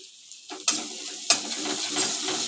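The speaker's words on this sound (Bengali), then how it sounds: "মশলাটাকে ভালো করে কষিয়ে নিই" Turmeric, cumin and chili powders with ginger-garlic-onion paste fry in a pan, rising from near silence into a bright continuous sizzle broken by two sharp stirring scrapes, close by and without speech.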